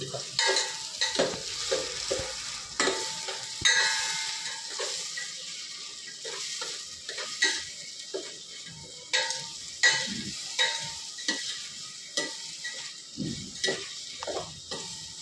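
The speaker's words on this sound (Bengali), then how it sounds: "এবার এরকম নাড়তে হবে যতক্ষণ না পেঁয়াজের কালারটা লাল হয়" Onions frying in a pot, stirred with a spoon in a steady rhythm of repeated scraping strokes over a continuous sizzle, close and clear with no talk.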